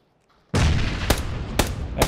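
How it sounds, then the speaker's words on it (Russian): A grenade blast in PUBG erupts suddenly out of near silence, loud and close, followed by a few sharp, cracking shots echoing over a lingering rumble. "Почти граната долетела."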